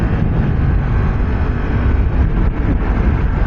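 Yamaha MT-10 SP motorcycle accelerating hard and shifting from second to third gear, a loud, steady engine roar with wind buffeting that fills the whole stretch without a break.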